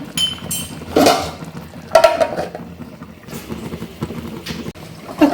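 Red snapper fish curry simmering in a pot is stirred with a spoon, giving a few close, sharp metallic clinks and scrapes against the pot with quiet bubbling between them.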